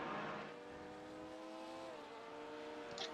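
A Porsche race car engine in a racing game at Brands Hatch, a steady sustained drone with gradually shifting pitch, fairly faint, ending with a brief higher squeal.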